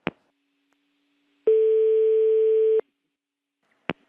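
After a phone call is cut off, the line gives a steady telephone tone that lasts a bit over a second. Short clicks from the handset come before and after it, with quiet silence in between.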